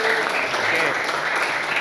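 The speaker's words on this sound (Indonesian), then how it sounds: "Tepuk tangan untuk kelompok." A classroom group claps for a student group in a brief, dense burst of applause, loud and close, with faint voices underneath.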